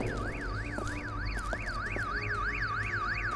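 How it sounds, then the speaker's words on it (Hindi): An alarm in a house rings loudly and steadily, with a rapidly rising and falling electronic wail repeating about every third of a second, alone without speech. "फिर ये अलार्म क्यों बज रहा है?"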